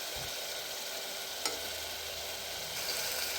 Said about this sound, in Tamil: நல்லா ஆயில் வந்து மேலே பிரிஞ்சு வர அளவுக்கு நீங்கள் ஃப்ரை பண்ணிட்டே இருங்க